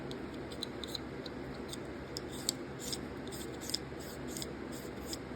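A Reate EXO-U folding knife, freshly cleaned, is worked open and closed up close, giving a run of quiet, crisp clicks and light metallic snicks against faint background hiss.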